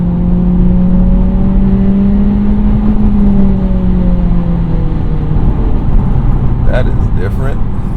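A Honda Integra with a CVT transmission revs toward redline, its engine note climbing in stepped harmonic rises over a steady loud drone, with a rattly burst near the end.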